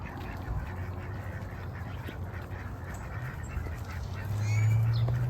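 Distant ducks quacking faintly outdoors at a park near water while being chased, with a louder low honking call rising near the end.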